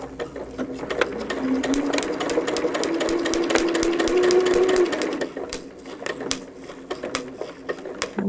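Sewing machine stitching along a marked line on a quilt block for a Four Corners pattern, a steady close whirring run for several seconds that slows and stops, with soft handling noises after.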